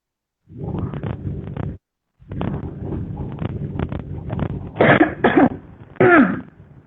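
A series of rough coughs close to the microphone, a long muffled burst, a pause, then several sharper, throaty coughs with strained vocal edges.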